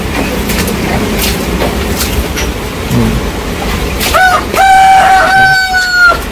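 A rooster crows out loud near the end, ringing over a steady rumble of background noise, with faint clucking-like sounds earlier.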